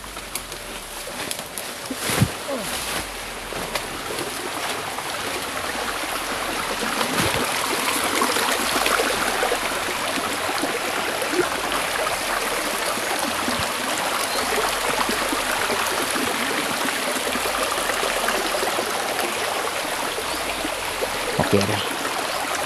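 A flowing stream gives a continuous watery rush and trickle outdoors, steady throughout with occasional knocks and brief voices nearby.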